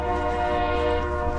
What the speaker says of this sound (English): you're hearing the famous White Pass and Yukon route train